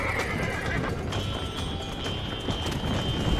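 A horse in the Red Dead Redemption video game whinnies loudly, and its hooves clip-clop steadily underneath. The sound is close, dense and continuous over a busy game background, and no one speaks.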